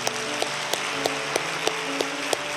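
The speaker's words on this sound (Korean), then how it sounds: "우리 박수로 뜨겁게 환영하겠습니다" A church congregation at a Sunday service applauds to welcome the pastor, a dense wash of clapping with sharper claps landing on a steady, evenly spaced beat throughout.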